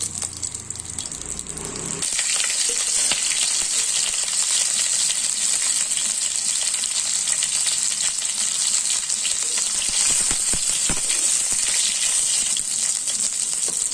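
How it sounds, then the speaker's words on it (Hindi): Fish sizzles loudly and steadily in hot oil for a Chhattisgarh-style fish curry, the frying bursting in after a brief quieter opening and holding a dense, constant crackle to the end. "तेल गरम हो गया, अब हम इसमें मछली को तल लेते हैं।"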